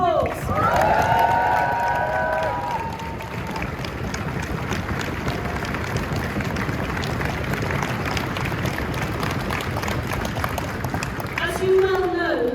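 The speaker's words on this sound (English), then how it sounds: "Well done, give yourselves a round of applause" A junior doctors' pay demonstration crowd outside the Senedd in Cardiff Bay claps and cheers in a sustained outdoor wash of applause, with voices and a few whistles at the start and end.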